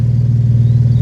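A 2015 Chevy Colorado with a Flowmaster 40 series catback exhaust idles up close, a loud, steady, deep burbling rumble with no talking.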